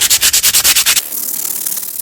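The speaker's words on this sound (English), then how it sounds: "Just gonna sand this off." Sandpaper rubs across an engine casing on a 1972 Kawasaki H1-B 500, first in about eight quick rhythmic back-and-forth strokes, then settling into a steadier, softer scrape.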